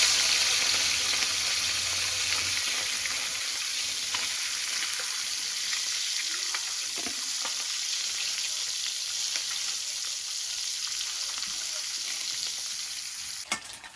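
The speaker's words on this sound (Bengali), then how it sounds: "তেলের মধ্যে মাছ দিতেছি।" Fish frying in plenty of soybean oil in a wok, a loud, steady bubbling sizzle close up that holds for the whole stretch and fades at the end, with no one talking.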